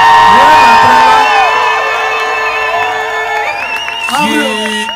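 A festival crowd at the Avlos Music Festival 2021 finale shouts, whoops and cheers loudly and continuously, with voices rising over sustained musical tones.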